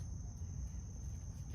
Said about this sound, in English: It's a cicada.